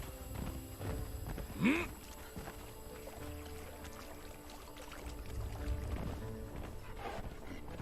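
A horse in the video game Conan Exiles trots with soft, steady clip-clopping hooves under a continuous ambient wash of game background noise.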